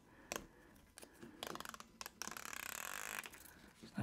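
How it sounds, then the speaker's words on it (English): A protective plastic film is peeled off a plastic sheet, heard as a faint crackling, tearing rustle that builds into a steady stretch of peeling, with a few sharp clicks along the way. "there's got to be this protective covering on it, which I will peel in a minute"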